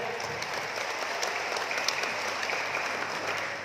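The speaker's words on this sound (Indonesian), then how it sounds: "Tepuk tangan untuk kita semuanya yang meriah." Audience applause at a PPP party declaration event in Pemalang, a steady wash of clapping from a crowd, fairly faint, with no speech.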